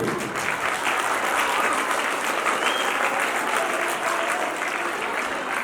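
An audience at a children's New Year function gives sustained, loud applause, dense clapping that holds steady throughout.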